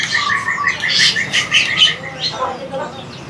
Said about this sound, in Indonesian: Oh, ini kapas tembak gacoran.